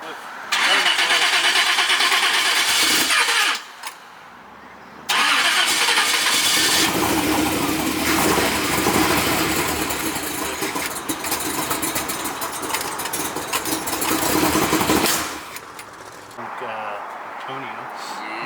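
A 1939 Studebaker engine cranks and catches, then runs roughly in bursts that cut out briefly before firing again, loud and close, with people talking over it.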